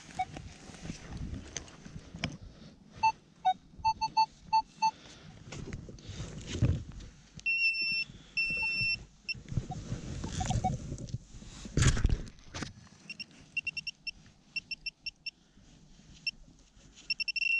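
A metal detector sweeps a field and gives repeated short electronic beeps and tones at several pitches, mixed with scraping and rustling from digging and handling.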